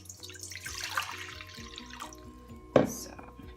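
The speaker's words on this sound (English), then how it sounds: "Gonna put some water inside." Water runs and splashes into a huge wok set up for steaming sticky rice, a broad hissing pour through the first half followed by softer trickling and a sharp clank near the end.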